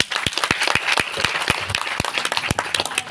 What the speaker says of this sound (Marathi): हिच्यासाठी एकदा टाळ्या वाजवा